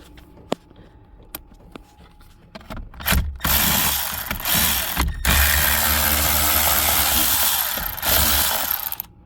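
A ratchet tightens a screw during a cruise-control install on a 2006 Toyota Yaris. A few sharp, sparse clicks come first, then a loud, steady mechanical whirring rattle fills the rest of the clip close up.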